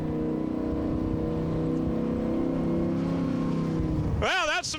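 Powerboat engine on Lake Lloyd holding a steady droning pitch, then surging sharply near the end as throttle is added, fairly close under wind noise.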